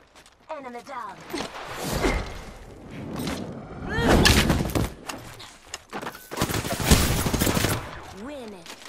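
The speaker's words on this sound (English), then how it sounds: "Taking fire! I'm getting shot at." Gunfire erupts in the video game Apex Legends: bursts of rapid shots and thuds come in waves, mixed with character voice lines and in-game chatter.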